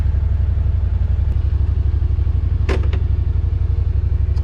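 Yamaha Rmax 1000 side-by-side on a short test spin, a steady rhythmic low engine rumble throughout, loud and close, with a brief clatter partway through.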